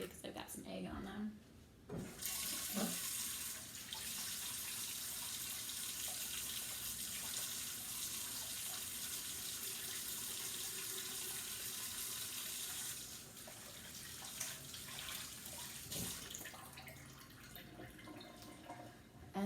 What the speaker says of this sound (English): Then I'm gonna wash my hands really quickly because I've got some egg on them.